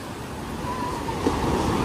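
Sea surf rolls in at a Turkish beach resort, a steady near roar of breaking waves with some wind buffeting the microphone and no talking.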